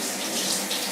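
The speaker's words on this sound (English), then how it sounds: "It's in the bin, and I wash my hands." A kitchen tap runs while hands are washed, a steady, close splash of running water that stays loud and even for a brief moment.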